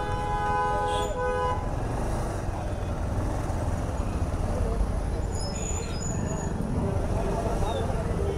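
Busy road traffic in a town near Madurai rumbles steadily and up close, with a car horn honking clearly near the start and faint higher horn toots later.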